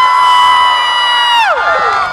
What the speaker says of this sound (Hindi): 3-2-1 के साथ इधर जितने भी बैठे इस डांस परफॉर्मेंस के लिए हूटिंग करेंगे